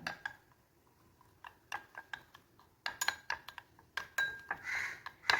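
Hair remedy powder mixed with oil in a bowl, giving faint, irregular light clinks and scrapes of a utensil against the bowl, close and quiet.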